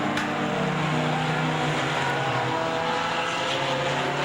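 Race trucks on the final lap at an oval track, engines droning and roaring steadily from a distance with a continuous broad rumble and no pauses.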